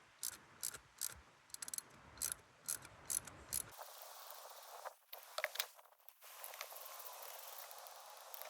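A ratchet turns a 3/8 inch drive socket on an old 4hp Johnson outboard, producing bursts of quick, close clicking strokes with brief pauses between them and faint handling noise.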